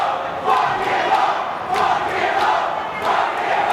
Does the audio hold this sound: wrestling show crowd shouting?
yes